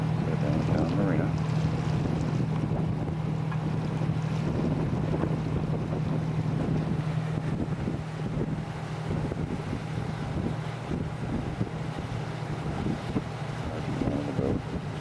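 A small boat motors up a river toward a town marina, with a steady low engine drone, constant wind buffeting the microphone and faint water wash throughout.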